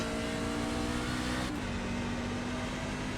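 A sim-racing truck in a BRR League race at New Hampshire hums steadily at close range, its engine tone holding and then dropping slightly midway as it downshifts through a turn, under constant noise.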